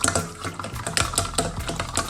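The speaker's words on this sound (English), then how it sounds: "Break the egg yolk and give this a mix" A cracked egg is beaten in a bowl for pancake batter, a quick run of light, rhythmic clicking and tapping strokes close by, with no voices.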